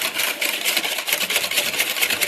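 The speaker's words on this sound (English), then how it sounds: "What we're going to do next is we're going to whisk it all together." A whisk beats eggless pancake batter of sugar and milk in a bowl, giving a fast steady scraping swish that sounds loud and close with no pauses.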